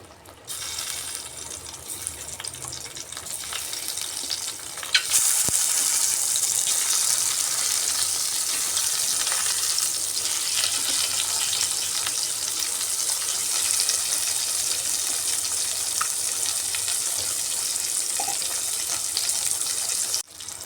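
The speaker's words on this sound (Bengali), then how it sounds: "দিয়ে এবার ডিমগুলাকে ভেজে নিচ্ছি।" Eggs fry in mustard oil in a pan, a dense, steady sizzle that jumps louder after a few seconds and holds at an even hiss.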